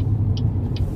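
A truck rumbles past on a road, a steady low engine drone with two brief hissing bursts like air brakes, fairly loud and close.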